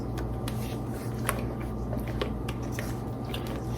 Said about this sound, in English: So I'm going to blend these together by hand.